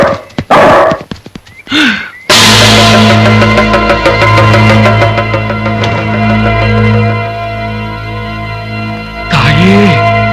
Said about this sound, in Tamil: தம்பி, நாய் குலைக்குது,